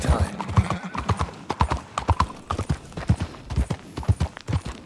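A horse in Red Dead Redemption 2 clops along at a steady walking rhythm, hooves striking close and distinct, with a brief whinny and someone talking over the hoofbeats.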